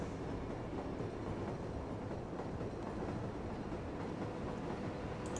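A train runs in the city-building game Cities: Skylines, a faint, steady rolling rumble that continues with no voices over it.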